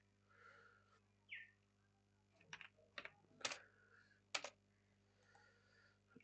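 Computer keyboard keys pressed while working in AutoCAD, a handful of separate crisp clicks spread out irregularly, quiet and close, with faint bird chirps in the background.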